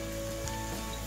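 Onions frying in oil for dum aloo, a steady dense sizzle like light rain that continues evenly throughout, close and moderately loud with no talking.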